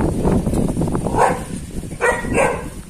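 An Indian pariah dog barks several times in quick, loud, close yelps, with short pauses between them.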